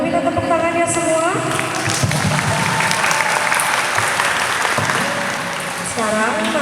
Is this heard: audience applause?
yes